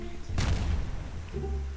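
Grenade explosion in the Block Post video game, a single loud boom with a heavy thud that decays quickly, followed by a lower rumbling tail.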